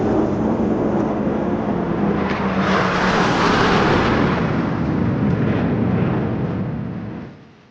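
A military jet roars through carrier flight operations in one loud, steady broadband rush that swells slightly midway and fades away at the end.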